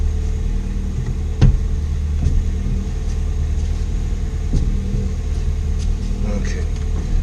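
A Ford Fiesta ST engine rumbles steadily at low revs from inside the car on a test drive, with occasional knocks and bumps over the road, moderate in level.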